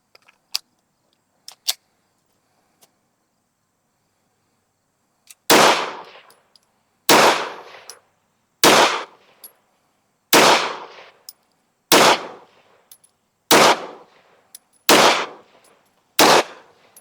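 A Beretta APX A1 Tactical pistol fires nine loud, sharp shots at roughly one-and-a-half-second intervals, each with a short ringing decay. Faint clicks and handling sounds come before the first shot.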